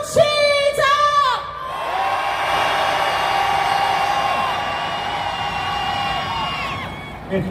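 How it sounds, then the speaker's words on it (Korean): A large crowd at a candlelight rally on a city avenue lets out a sustained roar of cheering and shouting after a few brief shouted calls, the massed voices holding loud and steady before fading. "힘찬 함성 한번 지르고 더 투쟁을 다지는 시간 가질 수 있도록 하겠습니다"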